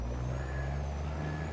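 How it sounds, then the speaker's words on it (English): A truck's Jake brake in Farming Simulator 22, a deep, loud, sustained engine drone with steady low harmonic tones, continuous and close for the whole brief moment. "Jake brake is so obnoxious."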